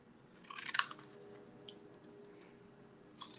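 Scissors snip through the paper lid of a small craft explosion box, giving a quiet cluster of crisp cuts early on and another brief snip near the end, with no talking.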